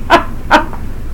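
A dog gives two short, sharp barks about half a second apart, close and loud, against a low background hum.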